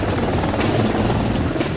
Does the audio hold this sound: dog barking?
no